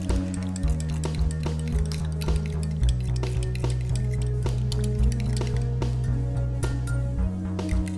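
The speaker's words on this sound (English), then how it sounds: "Now I'm going to add my tapioca starch, also known as tapioca flour. Mix it all together." A utensil clinks and scrapes rhythmically against a bowl while tapioca starch is mixed into blended homemade deodorant ingredients, with close, steady stirring taps throughout and steady music underneath.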